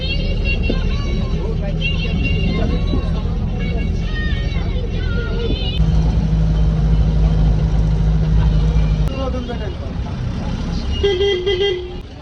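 Bus engine drones steadily from inside the moving bus on the road toward Bokaro, with horns tooting repeatedly and background voices talking throughout.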